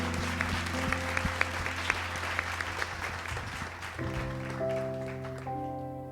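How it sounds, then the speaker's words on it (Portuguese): A church congregation applauds during an evening worship service. The clapping is sustained and steady, while held keyboard or organ tones play underneath and shift partway through. "Que você possa dar um louvor de palmas ao Senhor Jesus nessa noite"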